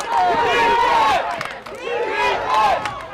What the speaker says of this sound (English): you can hear Baltimore crowd getting into it now